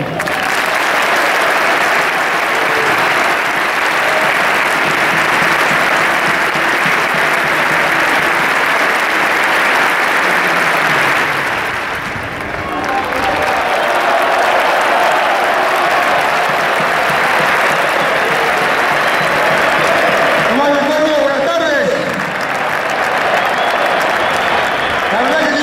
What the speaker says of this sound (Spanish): Porque ustedes están aplaudiendo mi trayectoria, mi recorrido